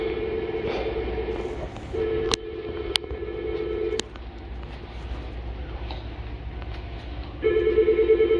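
An unanswered office telephone rings at the Polk County Health Department, repeating in evenly spaced bursts with quiet gaps between them and a few sharp clicks, and no one speaking.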